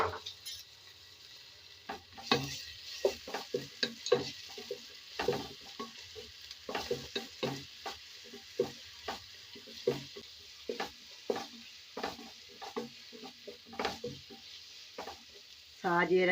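Ginger, green chili and garlic paste frying in a pan for Kerala meat rice, a crackling sizzle with dense irregular stirring scrapes and light clinks throughout, near and fairly quiet, with no voices.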